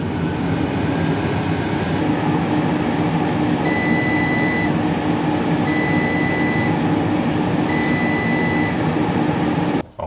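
An air fryer bakes a carrot cake on its bake setting, giving a steady, loud fan whir and hum throughout, with three short electronic beeps sounding at regular intervals.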